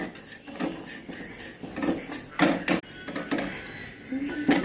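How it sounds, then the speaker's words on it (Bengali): A bowl set down and sugar added for homemade sweet yogurt: close clinks and knocks of a spoon on the bowl, a few sharper bangs midway, with someone talking throughout. "দেখো আমি একটা বাটি বসিয়ে দিয়েছি আর তার মধ্যে দিয়ে দিচ্ছি অল্প করে চিনি"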